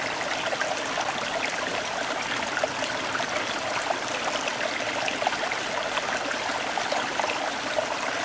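Water streaming steadily from a filtration and purification machine into a container, an even, close, continuous trickling rush that holds at the same level throughout, with no voices.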